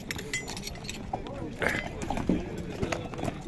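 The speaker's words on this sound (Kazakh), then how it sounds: "Азыр анча-мынча мындай аттарын дагы көрсөтүп берейин." Horses' hooves clip-clop at a Bishkek horse market, irregular hard knocks and clinks close by, mixed into steady crowd chatter and voices.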